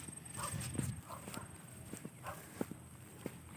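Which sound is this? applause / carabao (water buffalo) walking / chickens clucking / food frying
carabao (water buffalo) walking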